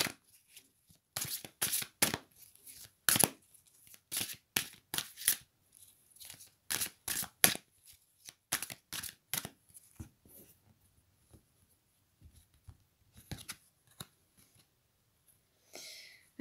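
Tarot cards being shuffled by hand, a quiet, close series of crisp riffling bursts and flicks, some cards spilling out, with brief pauses between rounds.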